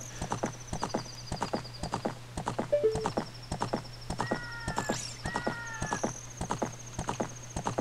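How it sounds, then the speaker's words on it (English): Horse galloping in a Zelda video game, rhythmic hoofbeat clip-clop at a steady pace with occasional neighs and chimes, moderately quiet and clear. "Look at me, I'm on a horse."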